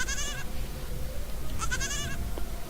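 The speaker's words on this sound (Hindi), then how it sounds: "तो चलिए बकरी की आवाज सुनिए" A goat bleats in two wavering, quavering calls, one at the start and another about a second and a half later, close and clear over a low background hum.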